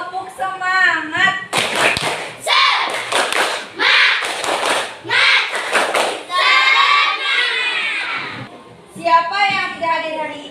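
A class of schoolchildren performs the rhythmic 'tepuk semangat' clapping chant in a classroom, with bursts of claps in set patterns alternating with loud sung and chanted voices.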